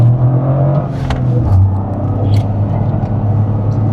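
A Toyota GR Corolla pulls hard in second gear, a loud, close, rumbling engine note climbing steadily with whirring drivetrain noise and no talk over it.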